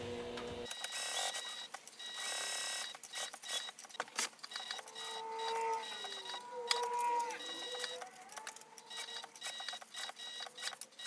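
A sewing machine backstitching cotton woven fabric, its motor whirring in a steady close hum with rising and falling tonal whines as the stitching direction changes, running alone without talk.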